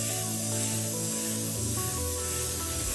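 An airbrush sprays paint with a steady, even hiss throughout, with low tonal hum and rumble beneath.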